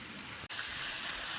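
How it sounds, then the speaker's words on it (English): A small waterfall in Alabama rushes in a steady broadband splash, close and continuous apart from a brief cut partway through, with no talking. "it's a little tiny waterfall, but it's beautiful,"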